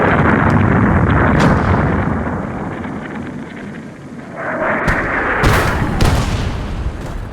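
Artillery shell fire on a besieged city at Leningrad, heard as rumbling, booming bursts layered over a constant wind-like roar, with sharper blasts hitting hard toward the end.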